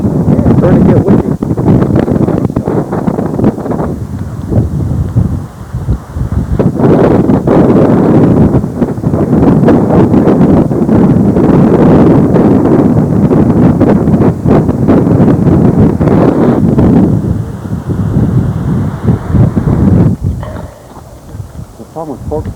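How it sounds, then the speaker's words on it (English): Gusty wind buffets the microphone outdoors above a river with rapids, a loud continuous roar that swells and drops in rough surges before easing near the end, with a voice talking over it. "It's starting to get windy."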